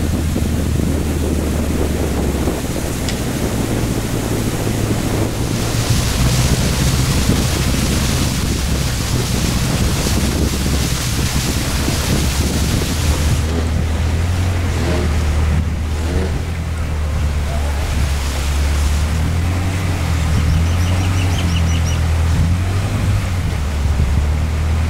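Loud, steady low engine drone of boats on a canal at a Thailand floating market, continuous throughout with wind and water wash layered over it.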